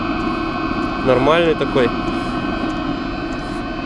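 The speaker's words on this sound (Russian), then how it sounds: "Так вот, автономка тут молотит." A diesel parking heater runs in the cab of a Scania 113 truck, a steady droning whir with tonal hum, close and continuous, as someone speaks briefly over it.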